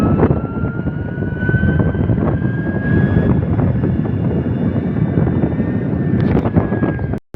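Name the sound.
Ritza electric scooter riding at full speed in eco mode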